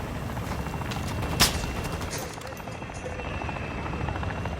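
Helicopter rotor noise fills a multiplayer shooter game as a steady, dense churning throb close by, with a sharp gunshot-like crack cutting through partway.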